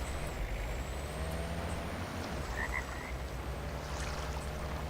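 Frogs croak in the Way of the Hunter game, a few brief croaks rising over steady low outdoor ambience, fairly faint and off to one side.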